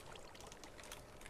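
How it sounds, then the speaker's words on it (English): Water poured in the Minecraft game, a short, very faint trickling splash that runs on its own without any talk. "I think I just messed up the water."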